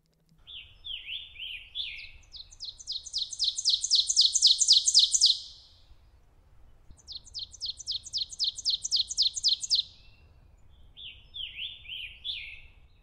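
An ovenbird sings three bouts of rapid, repeated chanting phrases, each building in loudness before stopping abruptly, with short pauses between them over a quiet background.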